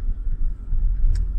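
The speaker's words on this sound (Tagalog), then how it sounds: "Yung acceleration niya, hirap na hirap ipanik yung sasakyan." A loaded Mitsubishi Xpander Cross labours uphill, carrying four people and some luggage, with a dull low engine drone and road rumble heard from inside the cabin.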